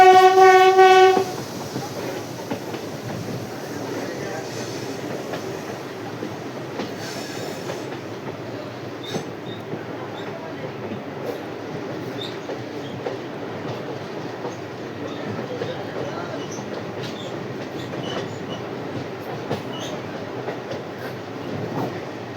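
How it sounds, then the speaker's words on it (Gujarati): A passenger train on the Veraval–Bhavnagar line rolls slowly at about 20 km/h. It opens with a loud horn blast, then settles into a steady, close rumble of wheels and carriages with faint clatter throughout. "20ની ટ્રેન સ્પીડ ચાલતી હશે."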